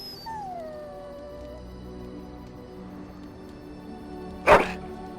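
A dog in Dragon Age: Origins gives a drawn-out howl near the start, followed by a single short, loud bark toward the end over quiet game ambience.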